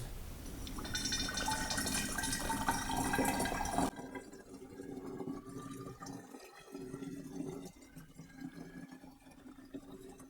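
Witch hazel hydrosol poured from a container into a glass storage bottle: a steady, fairly loud liquid pour for the first four seconds, then a quieter trickle and faint drips.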